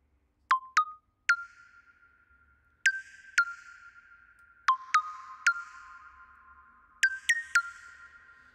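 Bell-like synth melody notes from a plugin play through a convolution impulse reverb, each bright struck tone ringing out with a long shimmering tail, in sparse clusters over near silence.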